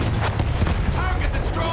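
Video-game machine gun fire in a muddy battlefield, a dense, loud run of rapid booming shots with blasts mixed in, continuous throughout with no pause.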